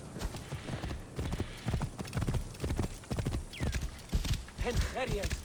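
Horse hooves clip-clop in a quick rhythm while people shout over them and a horse whinnies briefly.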